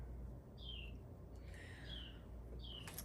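Birds in a neighborhood chirp faintly in the distance, three short descending calls spaced across a quiet background hum.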